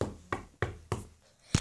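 Knocking on a door in a video game: sharp raps in an even rhythm, about every third of a second, with a louder final knock, close and clear with no talk.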